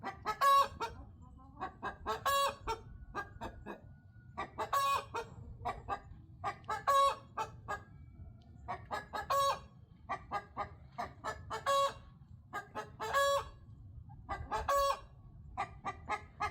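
Repeated short, honking crows from a rooster sound in regular bursts about every second or two, odd and goose-like, over a faint background.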